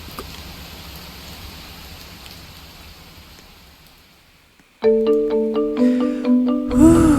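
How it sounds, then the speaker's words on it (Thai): Steady rain hiss in the Roblox Camping video game, fairly loud at first and slowly fading over several seconds before game music abruptly takes over. "เอาเลยฝนจะต้องหยุดแน่ๆเลยครับ"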